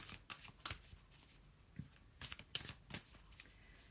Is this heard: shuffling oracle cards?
yes